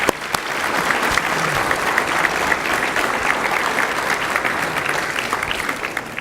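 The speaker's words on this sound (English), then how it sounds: "Can we give them all a round of applause?" Sustained applause from a large audience, dense and steady clapping filling the room at constant loudness.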